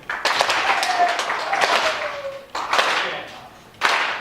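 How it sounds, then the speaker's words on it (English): A group of people clap together in loose bursts, a sharp cluster of claps at the start and again near the end, with a steady hum of chatter and a bright tone behind. "I need you guys to clap"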